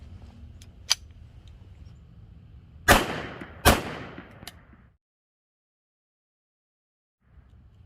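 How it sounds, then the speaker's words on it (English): Shots from a Buck Mark .22 pistol firing into test gel: a faint early crack, then two sharp close reports about a second apart and a small tail, before sudden quiet. "We have a buck mark. I'm only going to put 5 rounds in it."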